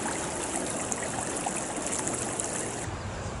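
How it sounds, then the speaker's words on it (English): Swiftly flowing river in Alaska, a steady broadband rush of moving water that holds at an even level for the whole stretch, with no voices. "the rivers in Alaska flow really swiftly"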